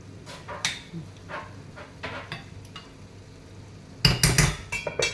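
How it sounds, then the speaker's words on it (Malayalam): Bitter gourd (pavakka) stir-fry being stirred in a pan, scattered light scrapes and clinks of a utensil against metal over a quiet hum, then a louder cluster of clattering knocks near the end. "നന്നായി ഇളക്കി കൊടുക്കുക"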